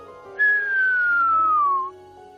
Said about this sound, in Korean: 이건 휘파람 부는 사람이라고 불리는 신호인데 번개가 만드는 작품입니다